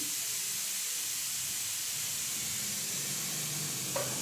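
A pot of fish curry simmers with a steady hiss and faint bubbling, continuous and close, with no voices.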